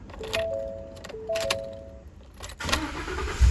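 A Ford ignition switch snaps back on its own, giving a few sharp clicks spaced about a second apart, mixed with faint electronic chime tones and key rattle close by.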